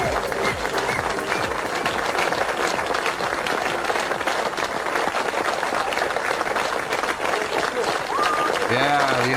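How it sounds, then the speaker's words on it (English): An applause sound effect plays continuously for several seconds, a dense, even wash of many clapping hands, with a voice coming in at the end. "add the applause sound effect"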